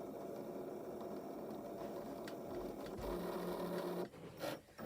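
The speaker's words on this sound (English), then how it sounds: "I'm going to cut it with a rotary blade" A Cricut Maker cutting fabric with its rotary blade gives a steady mechanical whir and hum that runs throughout, with a brief louder shift near the end. No one speaks.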